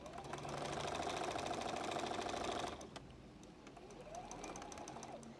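A sewing machine stitches slowly over pins through thick quilt layers. It gives a steady close mechanical whir for about three seconds, pauses briefly, then runs again more softly with faint clicks.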